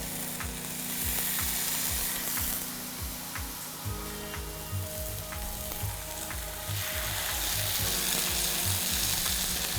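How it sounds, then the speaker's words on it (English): Marinated beef minute steak frying in a pan, a loud continuous sizzle and crackle with bursts of spitting fat, heard alone without speech. "So while my meat is cooking here"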